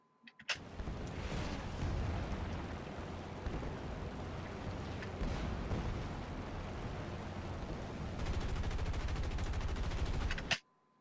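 Aircraft machine guns fire during a flight combat video game, a nearly unbroken rattling stream of rapid shots lasting about ten seconds, loud and dense with a slightly sharper burst near the end.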